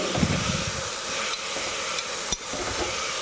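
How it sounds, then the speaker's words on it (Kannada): Sprouted beans and potatoes frying in a pan, a loud close sizzle with stirring scrapes and a sharp knock near the end, no voices. "ಹಾಕ್ಕೊಂಡು ಒಂದು ಸಲ ಫ್ರೈ ಮಾಡ್ಕೊಳ್ಳಿ"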